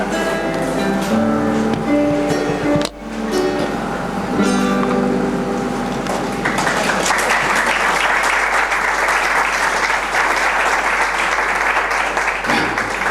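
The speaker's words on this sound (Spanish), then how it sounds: "No hace falta aplaudir, sé que son muy cortos, muchos de ellos, así que no merezco los aplausos" An audience at a poetry reading bursts into applause. Sustained tonal music fills the first half, then full, steady clapping swells in and carries loudly to the end.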